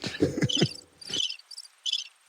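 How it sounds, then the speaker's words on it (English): Cricket chirping as a sound effect: a few rapid high chirp bursts, clear and isolated, following a brief stretch of talk. "Where's that cricket sound?"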